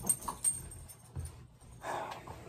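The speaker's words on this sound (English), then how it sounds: "Sorry about my puppy in the background." A puppy whimpers and plays in the background, making a few soft whines and small yips with scuffling movement between them. The sounds are faint and somewhat distant, and no one speaks.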